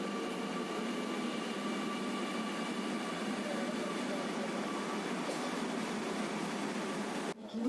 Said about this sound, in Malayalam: അങ്ങനെ മെട്രോ കയറി ഇങ്ങനെ യാത്ര ചെയ്യുവാണ്